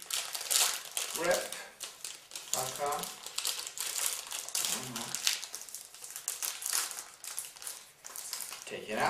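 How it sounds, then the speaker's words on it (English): A chocolate bar wrapper torn open and crinkled by hand, close crackling and rustling of packaging in bursts, with someone talking over it. "Open up the package, tear it apart with our incredibly weak"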